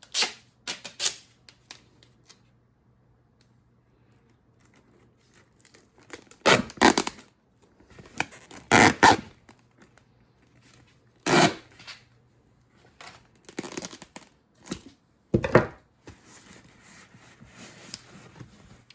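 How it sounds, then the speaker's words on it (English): Duct tape being pulled off its roll and pressed down to seal a plastic container for winter sowing poppy seeds, heard as several loud tearing, crinkling bursts separated by quiet pauses, close by with no talk. "Close up your container, and then I'm going to get my duct tape to seal it up."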